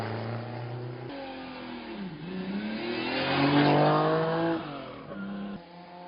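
Classic race cars at the start of a hill climb run rev hard and accelerate away, the engine note climbing steadily and staying loud and close, then easing off as another engine is heard further back.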